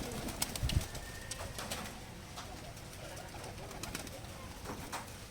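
Pigeons coo in a farmyard while eating wheat grain beside chickens, with soft repeated cooing, light scuffling and a brief wing flutter near the start.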